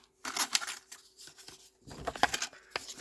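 Scissors snip through stamped designer paper while a pop-up card is cut out: a few quick, close, quiet cuts in short bursts, with no talking.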